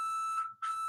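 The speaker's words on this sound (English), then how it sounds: "You're going to hear the beep, beep, beep, right?" Two short electronic beeps from a workout interval timer, high and tonal, separated by a brief gap, sounding alone and moderately loud.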